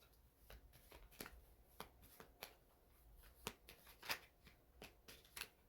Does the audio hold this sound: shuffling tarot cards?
yes